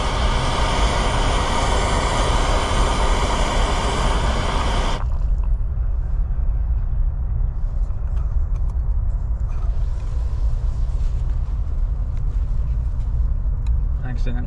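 A camping stove burner set to jet mode roars steadily on a cold night, a dense continuous hiss that drops to a lower, softer rush partway through and keeps going alone.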